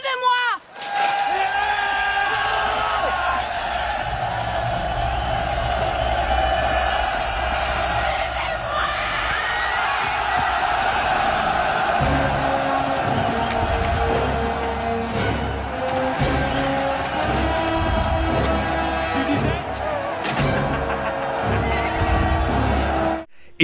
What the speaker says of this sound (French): La population et les soldats acclament Jeanne.